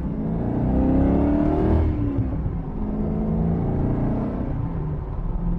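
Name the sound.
1987 TVR 390SE engine revving with pops between gear changes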